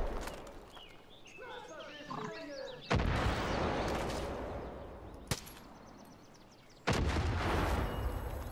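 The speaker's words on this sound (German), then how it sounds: "Er hat einfach einen Mörser hier stehen." Mortar fire in the video game Far Cry 5, with several heavy booming blasts spaced a few seconds apart, loud and sudden over game ambience and a brief snatch of a voice.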